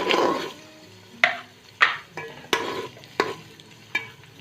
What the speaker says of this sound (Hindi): जो चिकन है वो हम इसमें डाल देंगे और अच्छे से इसको हम फ्राई करेंगे।